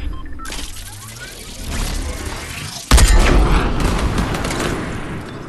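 Fortnite gunfire aimed at a UFO: a loud burst of shots and explosive booms bursts in near the middle, following quieter rumbling game noise, with crackling effects trailing off afterward.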